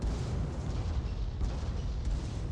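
Mortar fire rumbles through a naval battle video game as a continuous heavy, booming roar with layered blasts, loud and close, with no talking.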